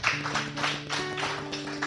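A church congregation applauds during a Sunday worship service, with steady clapping over sustained music tones throughout.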